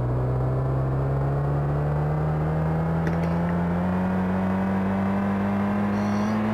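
A car engine in the racing video game Speed Relay Pro 2 drones as a continuous, loud whirring tone whose pitch climbs slowly and evenly, heard alone without voices.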